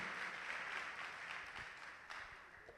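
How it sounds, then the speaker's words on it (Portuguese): A church congregation applauds during a worship service, a dense, continuous patter of clapping heard from a distance, fairly soft and alone without talk. "Vamos aplaudir a Jesus"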